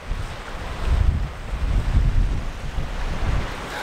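Wind buffets the microphone on a Texas beach while surf rolls in, a steady rushing roar with low gusty swells and no talking.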